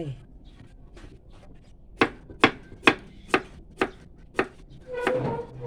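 Knife chopping cucumber into large pieces on a board, six or seven sharp, evenly spaced cuts close up, then a brief rustle.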